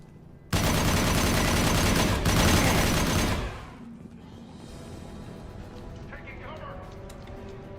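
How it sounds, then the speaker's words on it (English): Concussive shot firing in Mass Effect, a loud burst of gunfire and blasts lasting about three seconds, then cutting off abruptly to a quieter combat background. "Firing concussive shot"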